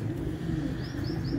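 Pigeons coo at a loft kept by a pigeon fancier, a low, soft cooing murmur that runs steadily through a dense rumble of background noise, with faint chirps above and no talk.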